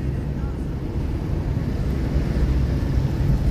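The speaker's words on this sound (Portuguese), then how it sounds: "Vento gelado." Cold wind gusts across a winding mountain road in the Serra da Mantiqueira, a steady, loud low rumble buffeting the microphone without pause.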